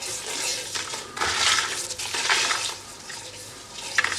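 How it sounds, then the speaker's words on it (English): Chillies and spices sautéing in a pan for a Goan chicken xacuti, a steady close hiss and crackle that swells and fades in broad waves as the mix is stirred, with no talking. "So I'm just going to saute this now for a minute,"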